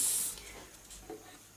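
A spray bottle filled with water gives a short, close hiss of mist as it is squeezed, then trails off into quiet room tone.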